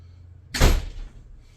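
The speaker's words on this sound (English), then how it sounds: "Close the door behind you, buddy." A single door shuts with a sharp, solid thump close by, preceded and followed by quiet room tone.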